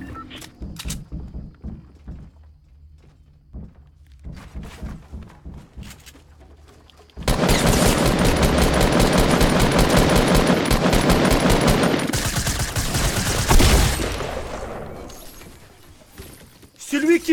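Submachine gun fire in a video game bursts out loud and sustained for several seconds after a quieter stretch of scattered shots and thuds, with rapid continuous rattling that briefly pauses and resumes.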